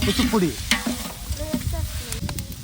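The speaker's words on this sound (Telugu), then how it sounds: "ఈ టమోటా అన్నిటిని పచ్చివాసన పోయేంత వరకు బాగా వేయించుకోవాలి." Tomatoes fry in a pan for a chicken biryani masala, with a steady sizzle under repeated clattering and scraping of a spatula stirring them.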